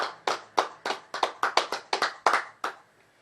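A church congregation gives a short burst of applause of about a dozen sharp, evenly spaced claps, close and clear, fading out within a few seconds.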